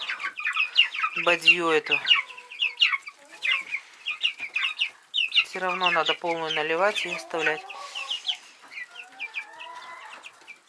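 Several chickens cluck and squawk nearby in irregular bursts among broiler chicks and turkey poults at feeding, while someone talks over them.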